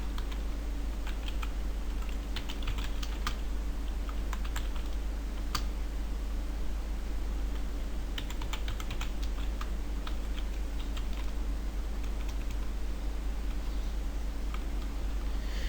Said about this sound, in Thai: โอเคพิมพ์ไปนะฮะ